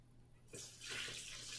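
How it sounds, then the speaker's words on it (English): Water poured into a blender for homemade enchilada sauce, a brief splashing rush that starts suddenly and then runs steadily, close and fairly quiet. "I'm going to add all the water, all the liquid."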